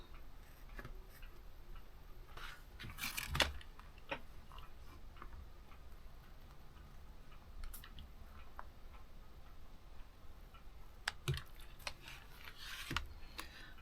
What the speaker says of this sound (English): now I'm going to cut. And I'm going to cut right on the inside line